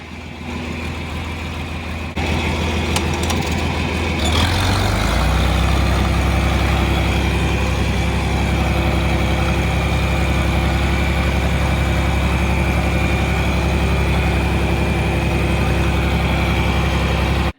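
A John Deere 4020 tractor engine idling up close, starting from a rougher low rumble and settling after a few seconds into a loud, steady, continuous drone that runs alone to the end.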